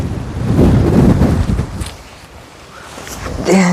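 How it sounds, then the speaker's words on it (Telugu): Wind buffets the microphone on a hilltop hiking trail, a low, rumbling roar that swells, eases off in the middle and then surges again. "ఏ గాలి నెట్టేస్తుంది"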